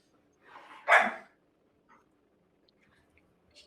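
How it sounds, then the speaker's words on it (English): Canine barking in the background: one loud yelp-like bark stands out after a softer whine, with a few faint distant calls following, heard alone without talk. "Hear the wolves in the background."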